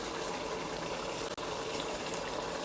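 Water pours steadily into a pot of curry chicken, a continuous close gushing rush that barely changes for its whole length, with no talking.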